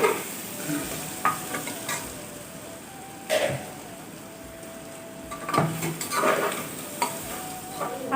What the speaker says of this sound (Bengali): আদা রসুনটা খুব সুন্দরভাবে ভাজা হয়ে গিয়েছে। এখন আমি দিয়ে দিচ্ছি হলুদ।